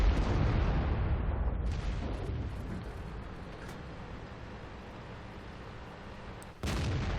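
A tank cannon in World of Tanks on the Westfield map, fired from an Indien Panzer, lets out a heavy booming blast that rumbles and decays over several seconds, then a second sharp report cuts in near the end.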